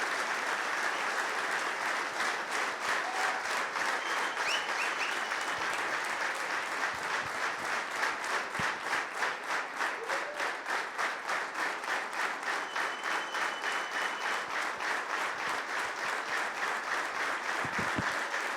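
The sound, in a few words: warm applause welcoming the speaker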